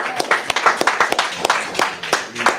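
Congregation clapping for a young reader at a Purim feast closing gathering, a quick run of loose, uneven handclaps lasting a few seconds, with a voice speaking over them.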